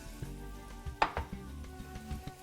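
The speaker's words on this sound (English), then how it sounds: "And we're going to cook our onions." Onions cooking in a pan over medium heat, a soft steady sizzle with a few sharp utensil clicks and scrapes, close and fairly quiet.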